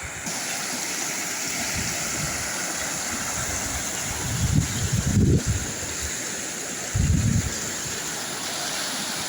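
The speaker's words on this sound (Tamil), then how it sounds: "அப்படியே தண்ணி சும்மா தாறு மாறாக போகுது." Flood water pours over a tank spillway during heavy monsoon rain in Sri Lanka, a continuous broadband rushing roar with a few louder low surges, steady and fairly close.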